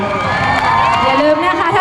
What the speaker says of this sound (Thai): ขอเสียงปรบมือให้กำลังใจกับ T7 ด้วยครับ